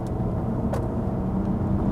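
A manual Acura TL SH-AWD from the 2010s cornering on the road, with a steady, loud engine and road drone throughout and a brief higher whoosh partway through.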